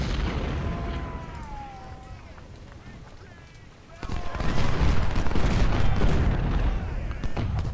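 Civil War gunfire and artillery from the Ultimate General video game, a dense roar of massed musketry and cannon booms swelling loudly after a quieter opening, with battlefield noise throughout.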